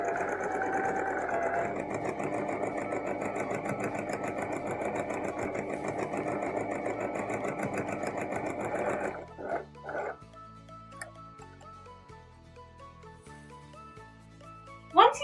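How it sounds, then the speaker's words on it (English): A sewing machine stitches a dress seam in a steady, fast, even whir for about nine seconds, then stops, followed by a few soft handling clicks and taps. "Then we can head to the sewing machine and stitch it together"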